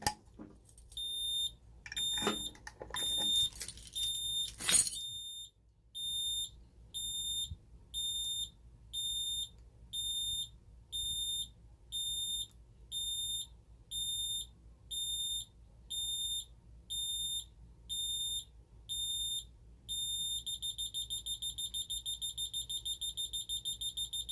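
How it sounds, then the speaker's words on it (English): An Ademco 6150 security keypad goes into alarm: after a few seconds of clattering handling noise, a loud high piercing tone pulses on and off in regular bursts, then turns into a rapid continuous beeping near the end. "now it's gone into alarm"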